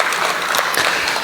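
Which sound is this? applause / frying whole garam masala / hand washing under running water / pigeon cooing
applause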